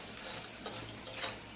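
Dried fish frying in a pan with onion, garlic, green chili, coriander, turmeric and chili powder, giving a steady close crackling sizzle with light stirring swells and no voices.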